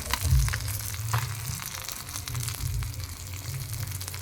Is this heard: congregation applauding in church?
no